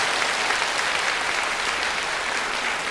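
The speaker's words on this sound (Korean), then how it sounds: "우리 호탄 교회에서 우리 격려의 박수 보내주시기를 바랍니다" A church congregation at a small country church applauds in encouragement, a steady, dense wash of clapping from many hands that holds evenly for the whole stretch with no voices above it.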